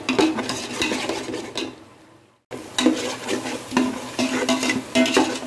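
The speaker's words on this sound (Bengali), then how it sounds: "এই মশলাটা আর পেঁয়াজটা আমি আরও 2 থেকে 3 মিনিট লো থেকে মিডিয়াম হিটে রেখে আমি কষিয়ে" Onion and whole spices are sautéed in a pan over low to medium heat, with a steady sizzle and repeated scraping stirs of a spoon against the metal. A brief drop to silence falls near the middle, then the stirring resumes.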